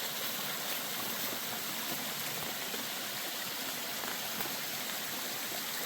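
A small waterfall, Mountain Air Falls on the Appalachian Trail, pours steadily, a constant broadband rush of splashing water with no voices, close and even throughout.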